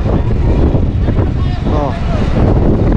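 Wind roars steadily past the open Haeundae Blueline Park beach train above the sea in Busan, a constant broadband rush that buffets the microphone for the whole stretch.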